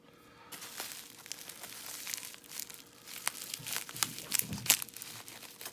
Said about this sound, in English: I think I will use my case knife to get into some of these things.